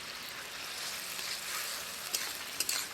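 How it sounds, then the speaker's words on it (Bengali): Spices fry with drumsticks in a pan, giving a soft, continuous sizzle and hiss at low volume, with a couple of faint scraping clinks from stirring near the end. "মশলাটাকে সজনে ডাঁটার সাথে কিছুক্ষণ খুব ভালোভাবে কষিয়ে নেব।"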